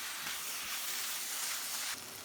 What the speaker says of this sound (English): add the pre-processed vermicelli to the pan and stir-fry evenly